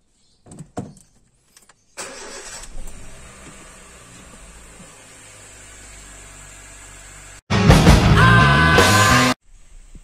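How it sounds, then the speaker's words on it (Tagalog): A car's engine is started and left idling to warm up before a DIY oil change: a few clicks, then a crank and catch into a steady low idle hum, followed by a louder, harsher burst near the end. "pa-startin lang natin siya para medyo mag-warm lang ng konti yung engine"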